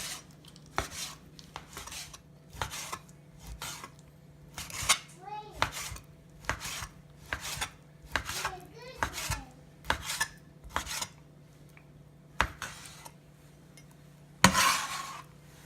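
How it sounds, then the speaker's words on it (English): A knife chops chicken into thin strips on a cutting board for ginger-garlic chicken, a steady series of close, crisp taps and thuds, with faint speech in the background. "I'm just going to cut here just some thin strips."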